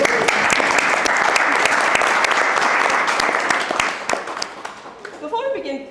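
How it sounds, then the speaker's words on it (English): An audience applauds a panel of founders from the 2025 FLIP cohort, with dense, loud clapping from a room of people that fades out near the end as a voice begins to speak. "can we please give them a huge round of applause?"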